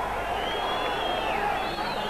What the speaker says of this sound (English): Crowd giving the referee, Senor Firpo, plenty of advice